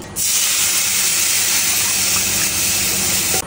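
Milk poured into hot ghee and semolina in a pan sets off a loud, steady sizzling hiss that starts abruptly and holds for a few seconds, close and alone.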